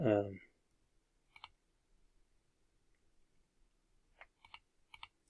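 A few crisp computer mouse clicks while working in an Excel spreadsheet, a single click followed by a quiet pause and then a small cluster of clicks, close and dry, after a brief burst of speech.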